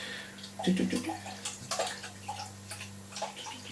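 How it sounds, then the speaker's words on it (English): Henry Westons medium sweet cider being poured, a soft liquid splash and trickle into a glass that swells briefly, then settles into quieter fizzing and dribbles against a steady low hum, with no talking. "So let's get this poured out and, well, let's just see what I actually make of Weston's medium sweet."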